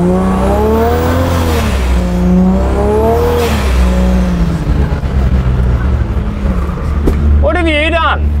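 Engine of a Vancruiser driving on boost through soft beach sand, heard as a loud sustained drone with rising and falling revs, close and continuous, with a brief squealing pitch sweep near the end.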